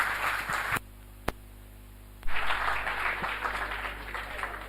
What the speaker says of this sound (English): and again a huge round of applause for the sir.